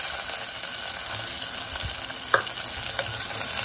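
Chopped large onion sizzles steadily in hot oil in a home kitchen pan, a constant close frying hiss with a few light stirring knocks and no talk.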